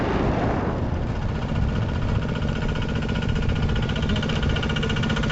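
A modified Thai farm tractor engine runs steadily and loudly close by, a continuous rumbling drone with a mechanical vibration and no clear change in pace.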